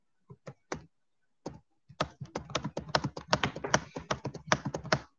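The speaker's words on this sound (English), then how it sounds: "I'm going to type in." Rapid typing on a computer keyboard, a few isolated key taps followed by a dense, steady run of close, crisp keystrokes with no talking.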